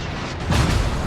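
Torpedo hits exploding on warships in the World of Warships video game, a single booming blast swelling up partway through over steady low game rumble.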